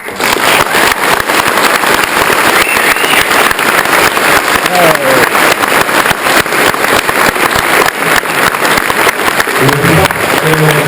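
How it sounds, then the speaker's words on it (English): Sustained applause from an audience at an EGX 2014 developer session for Evolve fills the whole stretch, dense and steady clapping with a few voices mixed in. "So big round of applause, please."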